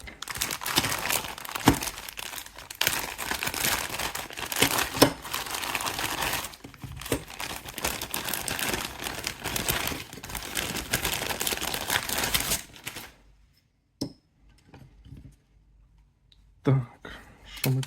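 A plastic package holding a Ukrainian Skyflex drone frame for an 8-inch kamikaze build is opened: continuous crinkling and crackling of plastic for about twelve seconds, close and fairly loud, then near silence broken by a few isolated rustles and taps.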